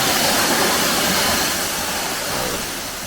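A waterfall in Antalya pours in a steady, loud broadband roar that fills the whole clip and eases off only slightly toward the end, with no voices over it.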